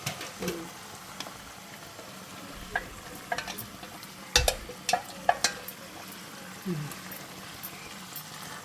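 Low sizzling of a greens and mutton tripe curry cooking in a pan, with intermittent stirring and scraping clatters, and a few soft background voices.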